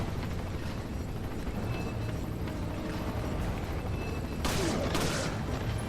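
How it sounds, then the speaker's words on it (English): Explosions in Resident Evil 4 during a Professional-difficulty chapter, a dense rumbling blast bed with a sharper, brighter burst near the end, all fairly loud and continuous. "Things are exploding all around me, I don't know why."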